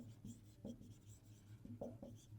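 A pen scratches across paper while math work on symmetry is written out, giving quiet, intermittent strokes in short bursts, faint and close against a low background hum.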